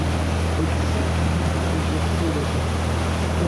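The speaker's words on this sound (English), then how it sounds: "here's that tanker coming the opposite direction" Steady loud engine drone and rushing water and wind aboard a boat on open water as a tanker ship passes in the opposite direction, with a low continuous hum.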